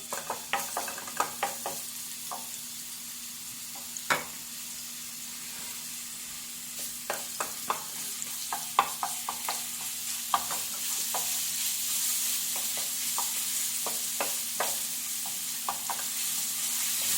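Garlic frying in olive oil in a pan, a soft steady sizzle with scattered light utensil taps and crackles, growing slightly louder toward the end.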